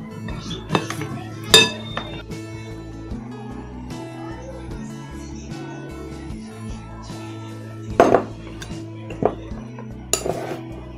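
Crushed cake crumbs being stirred in a bowl for chocolate laddoo with chocolate and coconut: a spoon scrapes and clinks against the bowl in scattered knocks, with a few sharper clinks standing out over a low continuous hum.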